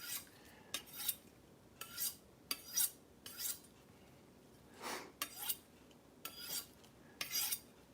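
A steel knife edge is drawn across a coarser sharpening stone in about a dozen faint, unevenly spaced gritty strokes, heard alone in a quiet room.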